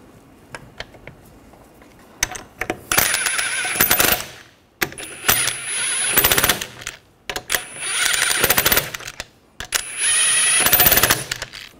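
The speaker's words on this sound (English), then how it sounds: "Put the lug nuts on." Bursts from a power tool, likely an impact wrench, spinning lug nuts onto a wheel of a 2013-2019 Ford Escape, four loud, close runs of two to three seconds each with short pauses between them.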